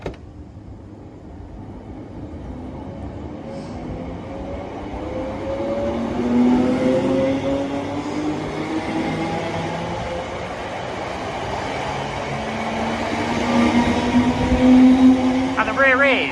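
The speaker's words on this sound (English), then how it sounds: "Departing out now is the 1009 Scotrail service from Dalmuir to Larkhall." A ScotRail passenger train pulls out of the station at Blantyre, bound from Dalmuir to Larkhall. Its motor tone rises steadily and the rumble of the carriages grows over about sixteen seconds, heard from the platform with no talk.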